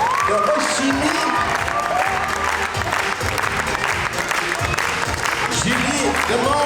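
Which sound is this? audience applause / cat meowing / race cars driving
audience applause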